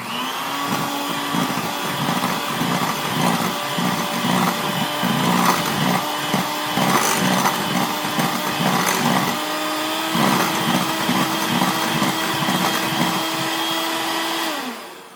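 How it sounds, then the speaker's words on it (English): An electric hand mixer whirs at a steady high pitch for about fourteen seconds, beating white granulated sugar into carrot cake batter in a bowl, with rattling against the bowl and no voices, close and loud. "And it says to blend this with the mixer."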